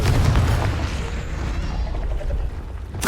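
A Confringo spell blast in Hogwarts Legacy lands as a loud, low rumbling boom that rolls and fades over a few seconds, ending with a sharp burst.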